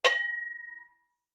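Struck once, a vintage WagnerWare #3569 hammered aluminum pot gives a bright clang that rings on with a clear tone and fades out within about a second.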